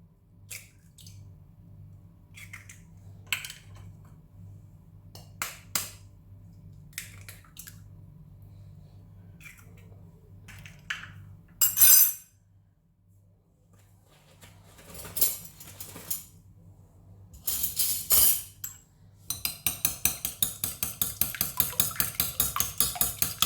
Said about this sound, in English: let's first start with breaking the eggs